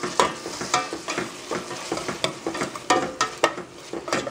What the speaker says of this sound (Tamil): தக்காளியும் சேர்த்து நல்லா வதங்கிடுறோம்.